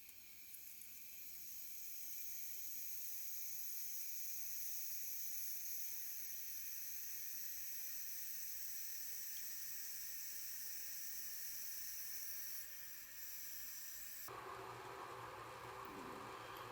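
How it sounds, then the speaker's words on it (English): Water heating in a lidded pot gives a steady broadband hiss and rush that holds for a long stretch, then shifts abruptly to a brighter, rougher bubbling near the end. "I'm going to speed up the video because boiling still takes a while"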